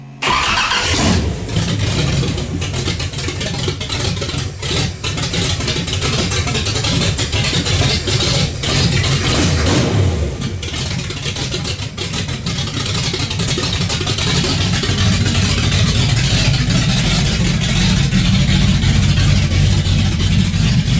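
A 1989 Chevrolet Camaro with a 454 big-block V8 runs steadily nearby, a loud, continuous rumbling idle with occasional rises in revs, heard alone without talk.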